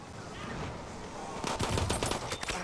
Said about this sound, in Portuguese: Caiu tanto frame que a arma parecia teco-teco, né?